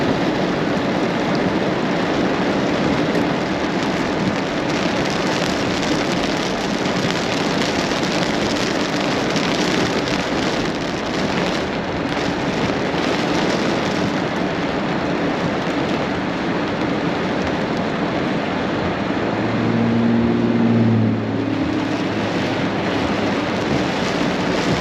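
A severe thunderstorm in central Oklahoma brings steady, heavy rain as a dense, loud hiss that fills the whole span, with a low rumble of thunder near the end.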